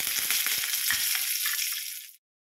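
Mustard seeds hiss and crackle in hot oil for a tadka, a dense, close sizzle with scattered pops that thins out and then stops abruptly.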